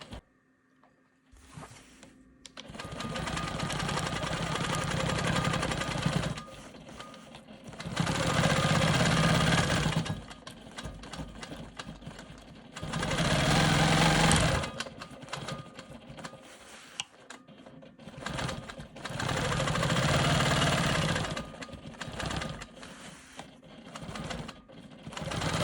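A Quilt Maker Pro 20 longarm quilting machine stitching a quilt block in several loud sustained runs, each lasting a few seconds, separated by brief quieter pauses with faint handling noise; no voices.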